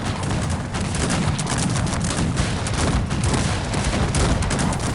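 Continuous crackling musket volleys from massed line infantry in Cossacks 3 battle at Newbury, dense overlapping shots with rumbling booms, loud and steady throughout without any voice.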